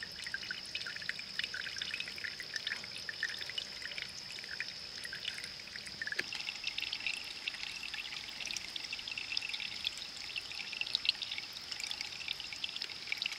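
Water pours and trickles steadily into a Grayl filter bottle being filled outdoors, a continuous close, soft splashing stream that runs the whole time with no talking.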